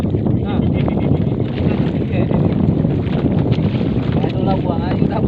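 A fishing boat's engine rumbles steadily and loudly out on open water, its low drone mixed with wind buffeting and a voice talking over it.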